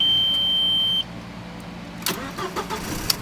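A used car's engine cranks and catches after a steady electronic tone cuts off, followed by short bursts of starter and idle noise and a brief beep near the end.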